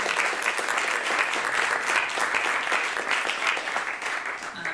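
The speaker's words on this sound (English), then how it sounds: "Let's give them a round of applause." An audience applauds the D.C. snow team at a City Hall event in the Wilson Building, with steady, dense clapping that runs evenly for several seconds without a break.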